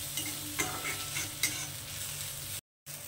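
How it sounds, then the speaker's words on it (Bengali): Onion with ginger-garlic paste fries in a pan in a steady close hiss, with a few faint stirring scrapes and a brief dropout near the end, no voices. "এবার এটাকেও আমি খুব ভালো করে ভেজে নেব, এটার সঙ্গে একটু লাল লাল করে ভেজে নেব।"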